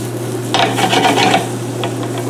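Seasoned food, salted and sprinkled with granulated garlic, stirred in a cooking pan: a short run of close scraping, rasping strokes over a steady low hum, then a couple of lighter scrapes.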